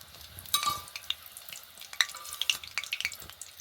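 Egg-coated snacks frying in oil, a close crackling sizzle with frequent sharp pops and spits, fairly quiet and without any speech.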